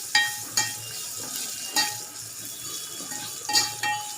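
Spices and curry leaves roasting in a pan over a low gas flame for Kolhapuri dahi kadhi, a soft steady sizzle with several sharp spoon clinks and stirring scrapes against the pan at irregular intervals.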